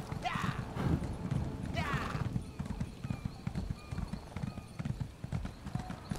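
Horse hooves clip-clopping in Elder Scrolls Online after a mount is summoned, a steady trotting rhythm close by, with a brief whinny near the start and a voice talking over part of it.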